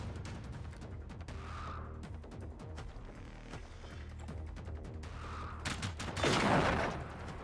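Gunfire in the Generation Zero video game, a dense spread of sharp shots across the clip with a louder burst near the end, heard alone without talk.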